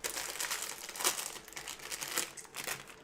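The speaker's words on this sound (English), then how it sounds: "you don't have to keep hearing the wrapper keep rustling all the time" Close, crinkly rustling of a plastic food wrapper being handled, in irregular bursts of crackle lasting a few seconds with no talking.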